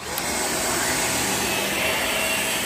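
A Shark ZU51 Navigator vacuum cleaner runs on carpet with a loud, steady, close whirring motor drone and airflow hiss, continuous throughout with no talk.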